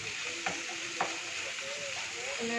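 Three green chillies sautéed in a pan for a Kuttanad-style duck pepper roast give a quiet, steady sizzle, broken by a couple of brief spoon scrapes.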